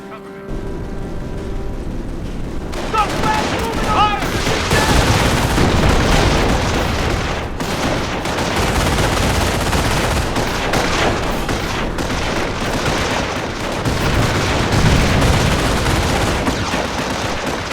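Gunfire from the video game Company of Heroes: dense bursts of rifle and machine-gun fire with booming blasts, loud and continuous after a brief quieter opening, with battlefield chatter mixed in.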